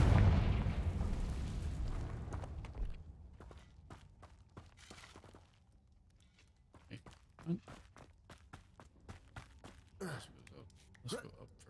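In the Hogwarts Legacy video game, the Confringo spell is cast with a loud burst that swells and fades over a few seconds. Scattered sharp impacts, footsteps and brief voice sounds follow at lower volume.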